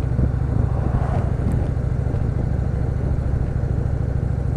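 Steady low engine drone of a 2016 Indian Chief Vintage motorcycle under way, a continuous loud rumble with even pulsing and no pauses or voices.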